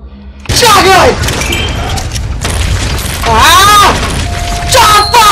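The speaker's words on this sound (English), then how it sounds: "Shotgun! Fudge on it!" Shotgun blasts in the action game Zombotron 2, loud booming shots with crashing, chaotic game effects, mixed with a person shouting and screaming over the top.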